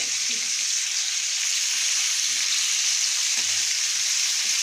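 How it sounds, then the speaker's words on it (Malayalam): Steady, loud sizzling of meat and liver frying in a hot pan, a constant crackling hiss with faint clinks and stirring noises underneath. "കുറച്ച് വറുത്ത് വേണമെന്ന് പറഞ്ഞിട്ട് ഇറച്ചി വറുക്കാനായിട്ട്"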